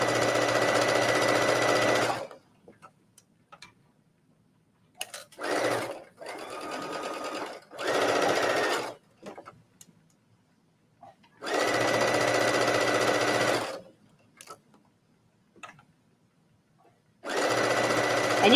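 Close, loud bursts of a sewing machine stitching T-shirt fabric, several runs of a few seconds each separated by quiet pauses with faint handling noises.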